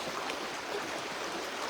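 A river in the Yarra Valley, Australia, flows with a steady, dense rush of water, loud and even throughout, with no voices.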